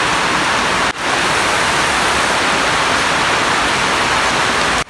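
Heavy rain falls steadily as a loud, continuous hiss with no voices.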